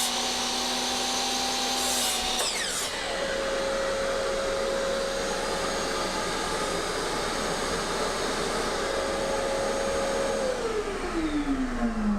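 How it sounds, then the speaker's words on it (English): A loud shop vacuum used for dust collection on a Metabo saw whirs up to a steady, high-pitched whine and keeps running without a break in a workshop. "Wait to hear the shop vac turn on."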